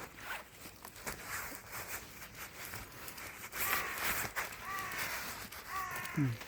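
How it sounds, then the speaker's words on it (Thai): A crow caws out on an outdoor walk in Thailand, several harsh calls near the end over footsteps and faint background rustle, fairly close. "เสียงกา"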